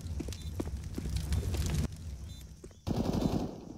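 Rapid bursts of gunfire in Counter-Strike: Global Offensive on the Ancient map at a Natus Vincere vs. mousesports pro match, loud and dense, with a short lull before another close, heavy volley.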